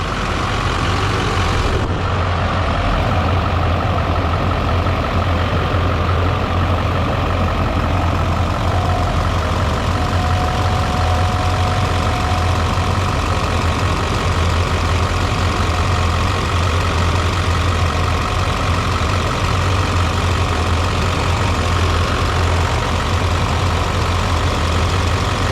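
Newly installed turbocharged engine idling after its first start, a heavy, steady low-frequency drone that runs unbroken and loud for the full stretch. A brief click comes near the beginning, with no talking.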